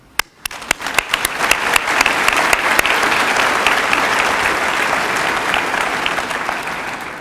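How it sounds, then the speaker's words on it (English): Audience applause at a medical school white coat ceremony, a few scattered claps that quickly swell into sustained, full applause from a large crowd filling the hall. "give yourselves a round of applause"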